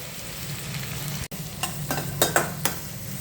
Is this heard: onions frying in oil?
yes